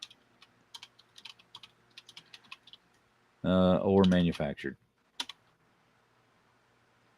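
Keys on a computer keyboard click in quick irregular bursts, fairly close, broken by a short spoken phrase midway, with a few more taps after it.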